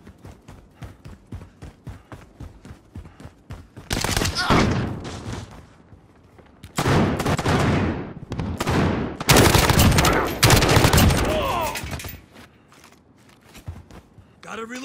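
Bursts of Call of Duty Modern Warfare gunfire: a run of evenly spaced single shots, then several loud, heavy sustained volleys separated by short breaks, close and punchy.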